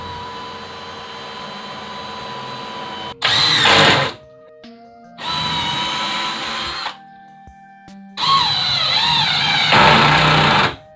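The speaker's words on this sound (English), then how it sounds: "You always got to start a pilot hole." A power drill bores a pilot hole into 2x2 wood in three loud whirring bursts, each about a second or two long, with quieter gaps and a faint background hum between them.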